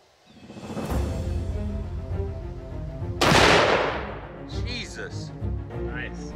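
Serbu BFG .50 caliber rifle at an outdoor shooting range: a deep booming blast followed by a second loud shot about two seconds later, each with a long rolling echo, while people talk in the background.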